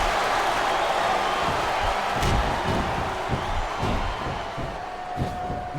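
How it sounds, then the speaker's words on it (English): Wrestling arena crowd roars and cheers in SmackDown vs. Raw 2007, a steady swelling din with a few thumps and sharp hits mixed in. "Man, this crowd is really swelling this guy's head."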